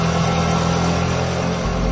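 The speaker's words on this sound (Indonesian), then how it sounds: "ku dengar ada bunyi sepeda motor." A motorcycle engine hums steadily in a radio drama sound effect, its low drone holding at an even level and thickening slightly near the end as it approaches, with no voices.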